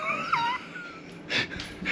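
A dog whimpers with thin, high, wavering whines up close, followed by a few soft breathy sniffs and snorts.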